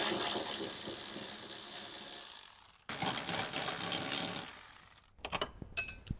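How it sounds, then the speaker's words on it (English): A ratchet or impact tool works on 14 mm seat bolts inside a Toyota Tundra, giving two long whirring runs with a gap between them, then a few short clicks and knocks. "we're gonna use a impact gun or socket wrench with a 14 millimeter, and we can go ahead and start removing those."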